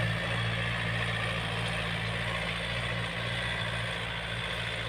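A Yanmar 51-horsepower tractor engine runs steadily at idle, a dense continuous mechanical drone with a rattling texture, close and loud throughout with no talking.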